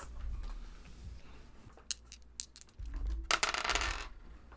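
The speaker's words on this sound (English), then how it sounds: "Heather, give me an education roll." Dice clatter and tumble on a table in short bursts for an education roll in a tabletop game, scattered rattles with a louder flurry near the end over background room noise.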